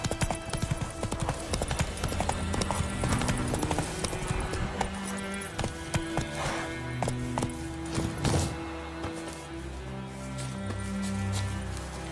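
Roach, a horse in The Witcher 3, gallops with steady, loud clip-clop hoofbeats over continuous game music, with a brief whinny-like cue partway through.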